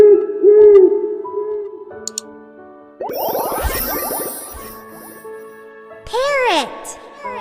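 An owl hoots briefly near the start, followed by other bird calls, chimes and short musical tones, with a voice calling out bird names.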